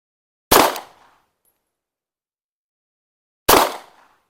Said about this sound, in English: We're going to do 2 shots, adjust the scope, 2 shots, adjust the scope until we can kind of narrow it down